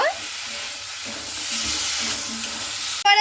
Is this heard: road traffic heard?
no